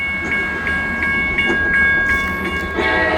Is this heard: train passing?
yes